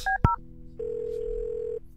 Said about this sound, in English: Let's call the Raid residence.